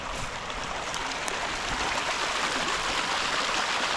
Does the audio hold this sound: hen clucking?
no